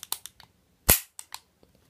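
A Colt 1911 A1 airsoft pistol fires one loud, sharp shot, framed by quieter mechanical clicks and handling taps before and after.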